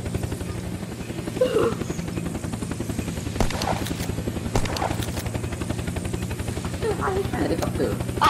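In-game helicopter from Unturned, a steady rhythmic rotor chop with a low engine drone running throughout, punctuated by a few sharp bangs, while players talk over it.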